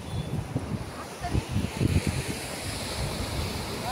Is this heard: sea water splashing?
yes